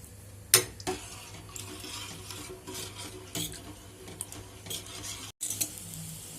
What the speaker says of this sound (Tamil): அதை கொட்டி கட்டி இல்லாமல் கலக்கணும்